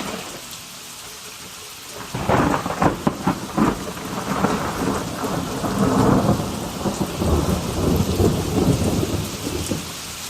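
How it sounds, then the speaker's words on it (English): After a quiet start, heavy rain pours down with rumbling thunder and loud cracks, a dense, continuous storm close by. "Can you hear that storm out there? Man, it's raining like I don't know what."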